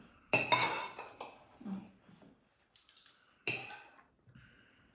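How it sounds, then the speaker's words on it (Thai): A spoon scooping food from a dish, a few sharp metallic scrapes and clinks separated by short pauses, close and fairly loud with quiet gaps between. "หนูเอาไอช้อนตักกินนะลูก"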